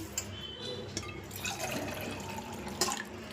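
Water splashes and gurgles as it is poured into a cooking pot, a steady close-up liquid stream with small drips and clinks.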